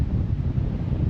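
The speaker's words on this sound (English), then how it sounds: "Wow, it's very windy." A brief burst of strong wind at Stirling Bridge, Scotland, rumbling loudly and steadily against the microphone.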